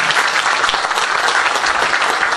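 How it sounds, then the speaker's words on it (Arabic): An audience at a university lecture and cooperation-agreement signing claps loudly and continuously, a dense, close wall of applause with no talking over it. "وأطلب كذلك من الحاضرين أن يصفقوا"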